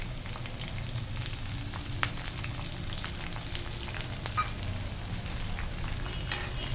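Curry leaves and asafoetida sizzle in hot oil for a tempering, making a steady dense crackle with small pops scattered throughout, close and unbroken.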